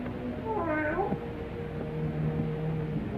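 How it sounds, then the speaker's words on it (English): A cat meows in a drawn-out, rising and falling cry near a graveyard at midnight, heard once, fairly close and clear over a low steady background hum. "keep that cat from desecrating my graves"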